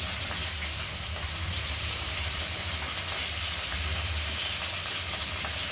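Bata fish coated in turmeric frying in hot oil, a loud, dense, continuous hiss and sizzle with a low rumble underneath, steady throughout, with no talking.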